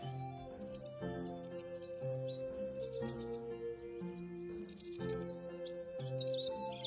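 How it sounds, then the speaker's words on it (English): Birds chirp and trill in bright, repeated phrases high above a steady, droning musical background, the calls continuing throughout at moderate loudness. "You can hear the birds singing"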